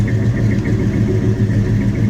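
A 1972 Oldsmobile Cutlass with an LS engine swap idling, its exhaust giving a steady, low, rumbling burble close by, with no talking.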